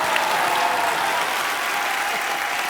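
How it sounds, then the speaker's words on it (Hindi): Studio audience at a comedy show bursts into loud, sustained applause, a dense even wash of clapping from a large crowd with no break and no talk. "इस बात के लिए जोरदार तालियां।"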